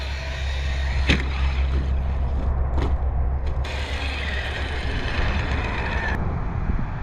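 Traxxas X-Maxx Ultimate RC monster truck, a 2024 model, rolling in at about three-quarter throttle and hitting a jump outdoors, giving a steady mechanical whine and rumble with a few sharp knocks and clatters throughout.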